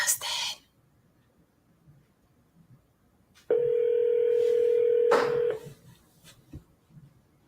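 A telephone call plays a steady electronic tone for about two seconds before the line switches to voicemail. A short burst of noise comes first, with quiet line hiss between.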